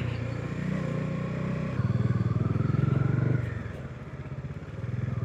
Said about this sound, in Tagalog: Pero at least nakakalusot yung motor.